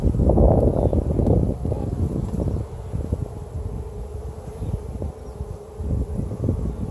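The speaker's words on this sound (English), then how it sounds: "there's all kinds of bees around here" Honeybees buzz close to the microphone around their hive in a steady hum, with occasional louder passes and gusts of wind noise, no one speaking.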